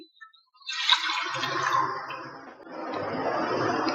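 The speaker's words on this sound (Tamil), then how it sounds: "வடிகட்டின வெள்ளக்கரைசலை இதுல சேர்க்கிறேன்" Strained jaggery syrup is poured into a pan, giving a close liquid splashing and trickling that starts after a brief pause and runs steadily to the end.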